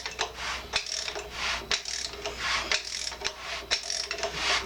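A 396 Chevy big block engine, sitting unused for 35 years with a little oil in each cylinder, is turned over by hand, giving repeated rough scraping and ratcheting strokes in an even rhythm of about one per second, close and fairly quiet.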